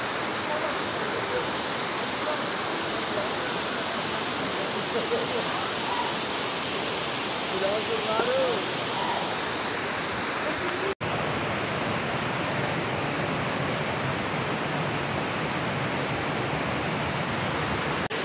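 A waterfall roars as a constant, dense rush of falling water, steady and fairly close throughout, with a brief dropout partway through.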